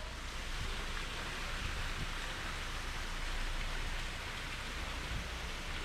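Steady rain patters on a boat moored at Goat Island on the Great Loop, a dense, even hiss of drops with no pauses, continuous and moderately close.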